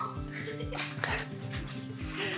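A tiny excited dog whimpers and yips in quick repeated bursts, close and insistent, with a person's voice faintly mixed underneath.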